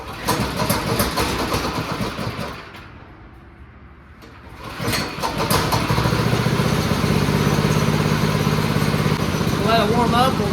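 Go-kart built from a van project, its small engine cranking, dropping briefly quiet, then catching and settling into a steady, close, buzzing idle with a kill switch just turned off.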